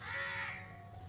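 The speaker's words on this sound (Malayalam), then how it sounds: "ഭയങ്കര ശബ്ദ കോലാഹലങ്ങളുണ്ടാക്കി കാക്കയും കിളികളൊക്കെ പറന്നു പോകുന്നുണ്ട്" Crows caw loudly around village trees at dawn, one harsh call ringing out near the start and then fading into a quieter bird-filled background.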